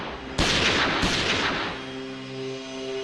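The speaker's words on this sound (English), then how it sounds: "Suddenly, he hears gunshots." Two sharp, loud gunshots ring out about half a second apart in a reenactment of an attack on mobster Mickey Cohen at his clothing store, each followed by a reverberant tail that fades to a low hum.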